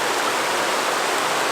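A mountain stream flows in a steady, even rush of water, close and continuous with no voices over it.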